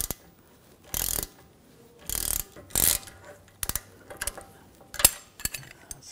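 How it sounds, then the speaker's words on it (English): A 21mm wrench works the nut on a 2009-2010 BMW 535i xDrive front right CV axle, giving several short, loud clicking and ratcheting bursts at uneven intervals with quiet pauses between them, close by and without talk. "Now I'm gonna use a 21mm wrench on the nut, and then a T40 socket."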